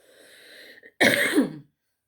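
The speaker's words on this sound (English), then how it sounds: "excuse my little cough" A single loud, harsh cough bursts out close by after a brief murmur, then silence.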